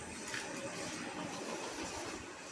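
A passenger train at Krishnanagar City Junction station, its steady rolling rumble and broad hiss filling the space, with faint wheel and carriage noise, heard close from on board without talk.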